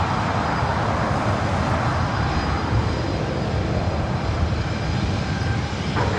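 A Southwest Airlines Boeing 737-700 jet at LAX gives off a continuous, dense engine rumble, loud and even throughout, with no talking.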